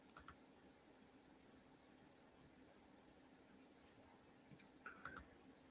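Short bursts of clicking on a computer keyboard, a quick cluster at the start, then silence, then two more brief flurries of keystrokes near the end over a quiet fan-like hiss.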